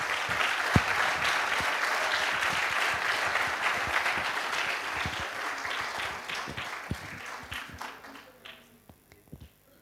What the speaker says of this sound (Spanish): Le vamos a dar un fuerte aplauso a María Rosa Flores